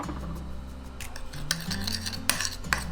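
Garlic powder, seasoned salt and chopped pepper being mixed together in a dish, with repeated scraping and clinking of a utensil against the bowl, close and fairly steady, with sharper taps toward the end.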